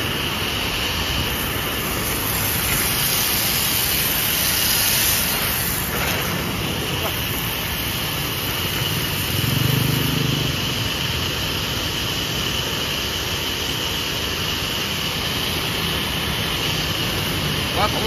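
An Italian high-pressure car wash pump with a 3.7 kW motor and 22 mm ceramic pistons, rated 100 to 150 bar, runs with a continuous loud, steady roar and hiss of spraying water.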